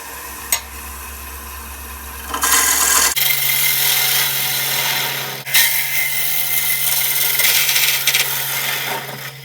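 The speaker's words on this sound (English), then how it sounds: "Just going to switch over to the bottom feeder bowl gouge." Bowl gouge cutting a walnut bowl on a wood lathe, a steady loud scraping rasp over the motor's low hum, shifting in tone as the cut changes partway through.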